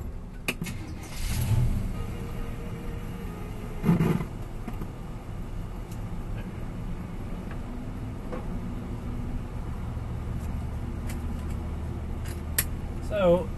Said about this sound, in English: So, we are riding in my pawpaw's, my granddad's 72 Chevrolet.